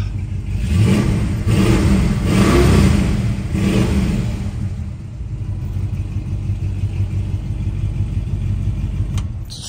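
A 1966 Ford Mustang with dual exhausts revs up several times in quick bursts, loud and close, then settles into a steady rumbling idle.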